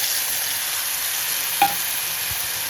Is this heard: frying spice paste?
yes